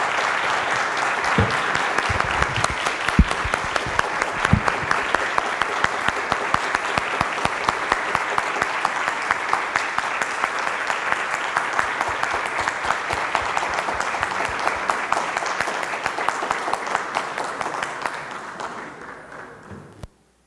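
A conference audience claps steadily and densely for about eighteen seconds to welcome Minister Celso Amorim, a full sustained round that fades out at the end.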